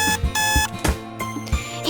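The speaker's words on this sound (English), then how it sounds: "The alarm snooze ends." An alarm clock rings in the Doki Doki video game, a repeating electronic beep pattern in short regular bursts, clear and close with no talking.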